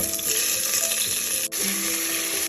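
Chopped onions frying in hot oil with spices for chicken madhooth, a loud steady close sizzle with faint stirring scrapes.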